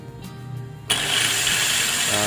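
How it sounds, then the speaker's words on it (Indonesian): An angle grinder fitted with a circular saw blade and run through a dimmer switches on partway through, jumping from a low hum to a steady, loud, broadband whir held at reduced speed. "otomatis jalan dia lor ya, tetapi putarannya tidak terlalu kencang, itu menyesuaikan dimmernya"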